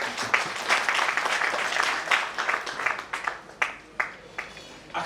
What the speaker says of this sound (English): I think you can clap for that.